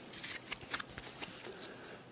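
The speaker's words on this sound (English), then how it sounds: "So you're going to shuffle these up" A deck of Ascension: Chronicle of the Godslayer game cards being shuffled by hand, a close, steady series of crisp riffling bursts with soft flutters between them and no talk.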